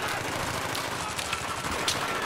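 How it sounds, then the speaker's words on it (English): Sustained automatic gunfire in a Battlefield 3 team deathmatch on Kharg Island, rapid dense bursts crackling continuously and fairly loud, aimed at the player with no talk over it. "I got the whole world shooting at me over here."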